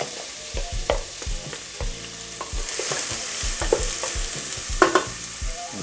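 Onions sautéing in olive oil in a pan, a loud, close sizzle that builds and holds, with repeated stirring scrapes and soft knocks of the utensil throughout and no talk.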